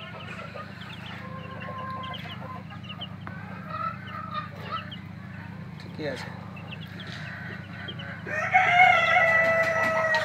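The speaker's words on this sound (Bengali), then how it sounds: "ও ওদিকে সোনালি মুরগি আছে সাইডে।" Sonali chickens clucking on a poultry farm with a rooster crowing loudly near the end, amid steady background hum and people talking.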